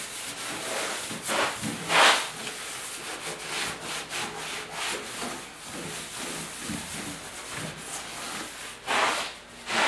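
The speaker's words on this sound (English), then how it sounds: "I'm wiping everything down, a little bit of wax and grease remover here." A cloth wiping down a 1957 Buick Special's car floor with wax and grease remover, giving repeated rough rubbing swipes in uneven strokes, close and fairly loud with no talking.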